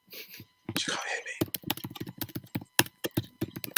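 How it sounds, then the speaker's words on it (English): Rapid keystrokes on a computer keyboard, a dense run of sharp close clicks in irregular bursts, with whispering over the start. "The thing is, I can hear her typing."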